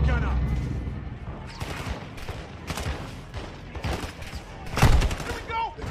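Dense battlefield gunfire in the Modern Warfare 2 campaign, overlapping rifle volleys and machine-gun bursts with a heavy thump near the end, under shouted voices.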